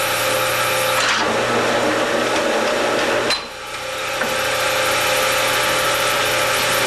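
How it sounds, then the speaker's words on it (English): An early 1906 Avery can-closing machine sealing sardine tins runs with a steady, loud mechanical drone and rhythmic clatter, pausing briefly partway through before continuing. "This machine is the very earliest model of Avery's clothes machine."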